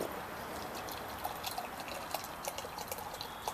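Imperial red beer pouring into a glass, a steady fizzing, trickling stream with small bubbly pops, close and fairly loud, no voices.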